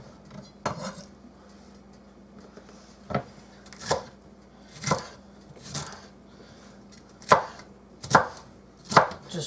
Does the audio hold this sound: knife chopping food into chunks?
yes